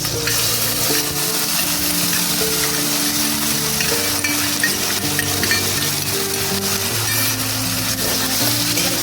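Chopped tomato and spices fry in a pan for chana masala, a loud, dense, steady sizzle running throughout with faint stirring scrapes underneath and no voices.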